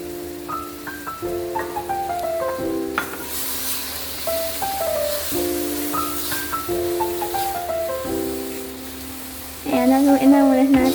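Yogurt being stirred into butter chicken with heavy cream in a hot pan, a steady sizzle and scraping stir sounds beneath tonal background music that swells near the end.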